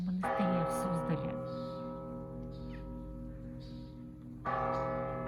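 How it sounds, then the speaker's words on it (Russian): Church bells ring at Spaso-Evfimiev Monastery in Suzdal, with one bell-ringer working 17 bells by rope and pedal, a rich sustained peal of many tones, struck again near the end, somewhat distant and steady. "Колокольный звон в Спасо-Ефимовском монастыре в Суздале."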